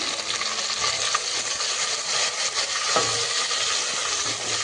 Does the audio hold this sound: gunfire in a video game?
no